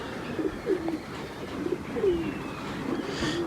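A pigeon coos close by, several low, soft throaty calls at irregular intervals over a steady background hiss.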